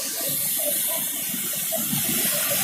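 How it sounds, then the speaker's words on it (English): Panimur waterfall on the Kopili river in Dima Hasao, Assam, pours with a steady, close rush of churning water, unbroken and free of voices. "This is the Panimur waterfall"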